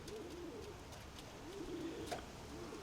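Pigeons coo softly in a low, rolling murmur that recurs in several short phrases, faint and a little distant, with a stork close to the flock and light outdoor background noise.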